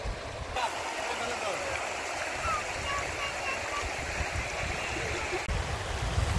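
Water of the Manas River runs and splashes over stones in the riverbed, a steady broad rushing that carries on throughout at moderate level, with a faint voice or two in the background.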